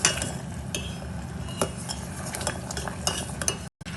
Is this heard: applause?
no